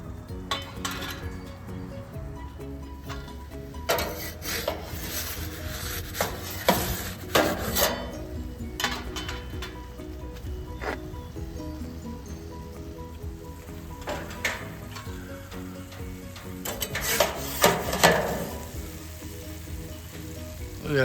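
A pizza turned inside a Big Horn 13-inch gas pizza oven: metallic clinks and scrapes come in bursts over a steady sizzle and the low roar of the gas flame.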